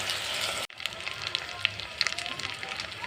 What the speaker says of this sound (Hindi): तो मैं इसको अच्छी तरह फ्राई कर लूँगी जैसे इस तरह से।